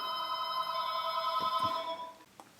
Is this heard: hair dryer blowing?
no